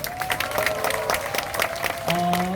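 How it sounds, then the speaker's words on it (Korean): A student rally crowd applauds a computer engineering student speaker with steady clapping while a sustained tone hums underneath and shifts pitch near the end. "용기를 내서 현장 발언해주신 컴퓨터공학부 한상현 씨한테 다시 한번 큰 박수 부탁드립니다"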